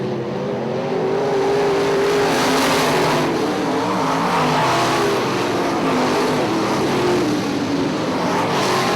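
IMCA modified race cars racing at Ionia Raceway Park, a loud continuous roar of several engines surging as they pass, without talk.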